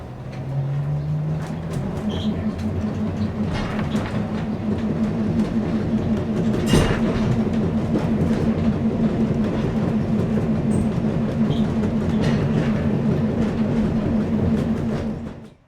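A historic Wellington tram runs steadily along the museum tramway line, its low motor hum and rolling wheel rumble continuous and close for the whole stretch, with a brief sharp knock partway through and no talk.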